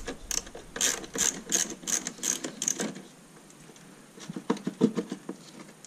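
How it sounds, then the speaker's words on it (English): 10 mm ratchet turning a car radio bolt on a Mazda 3, a close, crisp run of about eight rapid ratcheting clicks, a pause, then a few more clicks. "I like to use a ratchet. It's 10 millimeters."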